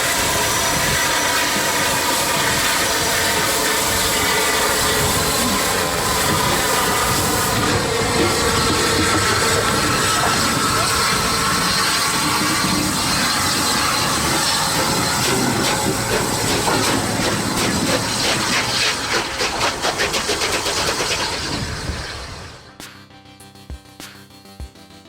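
A Nene Valley Railway train draws in, a sustained loud rush of rolling wheels and hissing steam that holds for about twenty seconds before cutting off abruptly.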